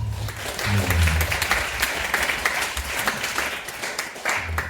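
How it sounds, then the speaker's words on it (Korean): Congregation applauding during a Sunday worship service before Christmas at a Korean church, steady broad clapping that holds at a moderate level throughout the clip. "우리 박수 한번 해드리겠습니다."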